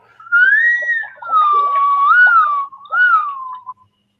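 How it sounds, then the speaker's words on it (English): A single person whistles a wavering, sliding melody in three clear phrases, loud and close in an otherwise quiet room. "Did you just whistle at me"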